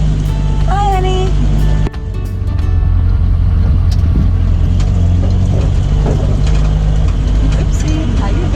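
A 1950 Willys Jeepster engine pulls away from a parking lot, a loud, steady rumbling drone building after a brief pause, with a person speaking over it.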